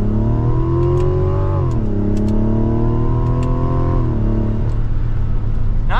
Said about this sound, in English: for a family three-row SUV, it gets up to speed nicely